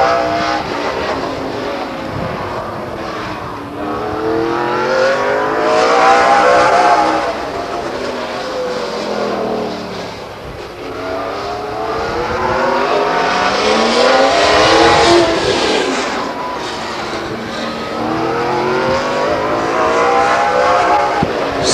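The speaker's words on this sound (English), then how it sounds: "And from Lathrop, in the 100 car, that's Angelo Carrillo." A race car laps the Stockton 99 Speedway oval, its engine roaring loud and continuous, swelling and fading as it passes around the track twice.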